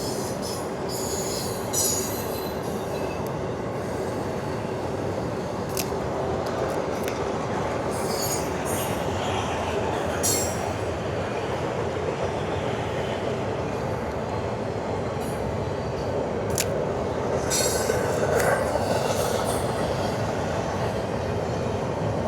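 A train passes close by, producing a loud, steady rumble with metallic wheel squeal and flashes of clatter that lasts the full twenty-odd seconds, with no voices over it.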